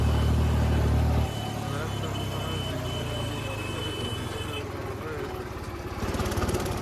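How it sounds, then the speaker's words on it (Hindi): A serviced New Holland 3630 tractor engine running smoothly, a steady close diesel hum that drops slightly in level after the first second and continues evenly throughout. "ट्रैक्टर की भाई आवाज़ बहुत अच्छी हो गई है, मतलब ट्रैक्टर एकदम रिफाइन चल रहा है"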